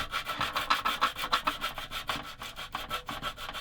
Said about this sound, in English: if I just do a bit of sanding stick on it